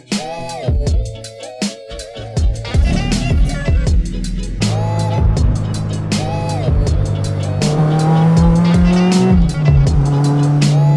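Modified Honda Civic EP2 with a K20 engine revving hard, a loud, harmonic engine roar rising in pitch through several surges and staying close and continuous throughout.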